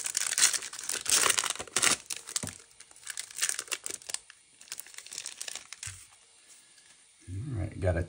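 Foil wrappers of 2023 Bowman baseball card blaster packs are torn open close up, with bursts of crinkling and ripping in the first half that fade into quieter rustling, then a low thump near the end.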